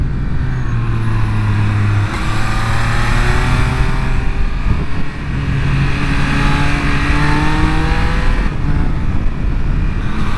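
A 2023 Triumph Speed Triple 1200 RS in track engine mode, traction control off, revs loudly and continuously for about ten seconds, its pitch sweeping up and down through gear changes, close and dominant with no voices.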